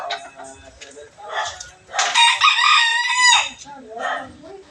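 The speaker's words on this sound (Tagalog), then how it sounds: "Ikay pala malat ang tilaok." A rooster gives a hoarse, raspy crow, close and loud, a single drawn-out call with softer clucking and faint voices on either side.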